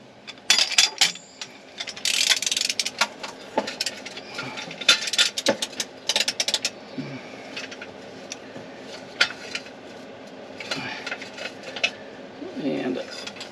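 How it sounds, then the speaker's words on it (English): Filter wrench working on an oil filter on a 2023 Volvo VNL truck, giving irregular metallic ratcheting clicks and clanks in bursts, loudest early on and then thinning out into scattered, sparser clicks. "Now I'm going to take the filter wrench"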